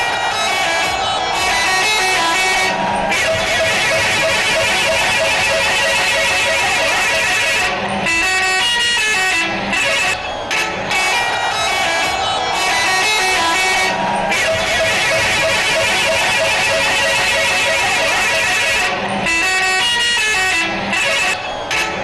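A truck's air horn blares loudly and almost without pause, with only a few short breaks over about twenty seconds, amid background noise and some voices.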